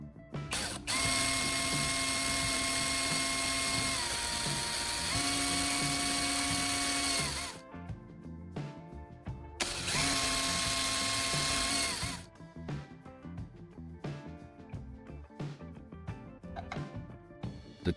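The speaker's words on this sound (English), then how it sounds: "Next, I'll drill 2 small holes in the top cover of the charger." A small drill bores holes into the plastic top cover of a phone charger, two loud sustained whining bursts of drilling separated by brief pauses, followed by lighter handling clatter.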